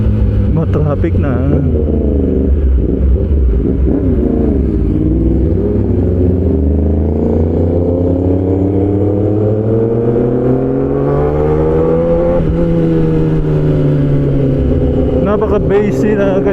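A Kawasaki ZX-10R sport motorcycle rides through traffic, its bassy exhaust a close, loud, continuous deep drone whose pitch rises and falls with the revs for the whole stretch.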